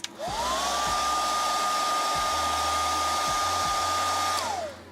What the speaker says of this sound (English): I'm gonna hit it with a hairdryer for a second.